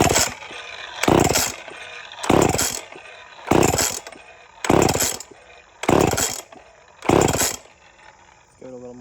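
A freshly fueled chainsaw is pull-started for a test fire, giving seven loud, evenly spaced bursts up close, each cut short without the engine settling into a steady run.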